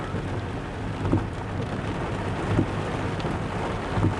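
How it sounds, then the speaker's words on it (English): Steady rain patters against a fogged-up window, a constant even hiss with a few soft low thumps at regular intervals. No one speaks. "All the rain on the window there."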